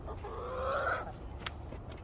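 Chickens in a backyard coop give a soft run of clucking for about a second, moderately close, over a low steady background hum.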